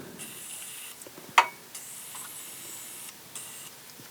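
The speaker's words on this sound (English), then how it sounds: "There are also a couple potentiometers on the back, so I want to spray those." A contact cleaner spray can hisses in soft intermittent bursts onto potentiometers, with a sharp click partway through and quiet pauses between the sprays.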